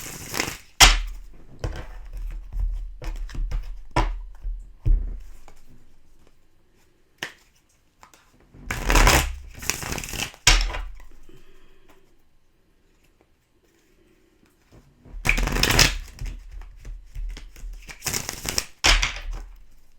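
Yin Yang Oracle cards are shuffled by hand in scattered bursts of crisp riffling and tapping, close and fairly loud, with quiet pauses between the handfuls.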